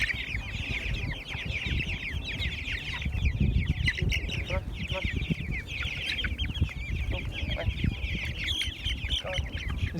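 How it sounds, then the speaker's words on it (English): Chickens cluck and chatter steadily as they are moved into a chicken tractor, with overlapping calls close by and a busy rustle of movement and scratching underneath. "All right, chickens are moving into the tractor."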